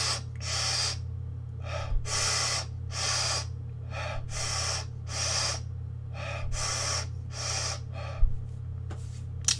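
Deep belly breathing is demonstrated close to the microphone: a steady series of audible, airy inhales and exhales repeating at an even rhythm over a low background hum.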